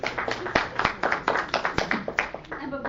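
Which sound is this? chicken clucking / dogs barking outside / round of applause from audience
round of applause from audience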